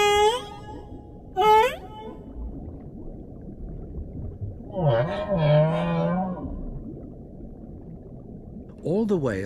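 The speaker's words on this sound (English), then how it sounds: "humpback song is a powerful form of communication" Humpback whales sing in the ocean depths, with rising whoops, a low groaning moan and sliding tonal calls separated by quiet stretches of deep watery rumble.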